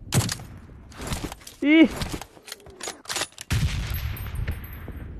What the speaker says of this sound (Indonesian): Orang pakai Scar L dia.